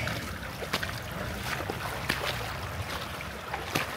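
Splashing and sloshing of someone wading through water near the Coto mines in Masinloc, Zambales, with steady rushing water and rhythmic step splashes close by, no talk.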